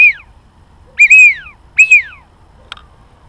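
A duck call blown to imitate a wigeon's whistle gives three sharp, high whistled notes, each rising briefly and then sliding down, spaced about a second apart and close and loud, followed by a short faint click.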